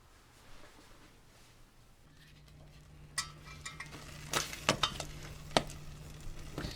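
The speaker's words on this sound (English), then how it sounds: "you want to break it up and mash it so it will mix easier with the other ingredients" Cream cheese being mashed and broken up in a pan, with soft scraping and several clinks of a utensil against metal, growing busier toward the end, quiet and close with a faint low hum underneath.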